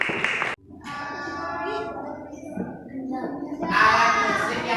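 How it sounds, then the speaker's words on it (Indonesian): Children in a classroom clap for group 3, a brief burst of applause mixed with chatter and young voices, fairly close and lively. "tepuk tangan untuk kelompok 3"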